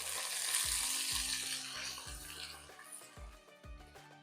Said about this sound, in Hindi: प्याज फ्राई करने के बाद इसमें डाल देंगे लहसुन अदरक का पेस्ट,